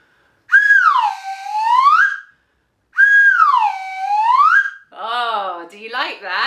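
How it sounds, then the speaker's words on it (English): A slide whistle plays two long, loud swoops that dip and rise again, then a run of quicker wobbling slides, close up with no talking. "Oh, it's a whistle, and it's called a slide whistle."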